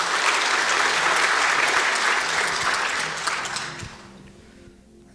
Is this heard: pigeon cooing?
no